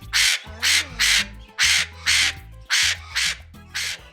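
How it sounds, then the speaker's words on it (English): An Amazon parrot gives a run of eight loud, harsh squawks in a steady rhythm, close by with short pauses between each call. "they will be trying to communicate with you quite often with their squawks."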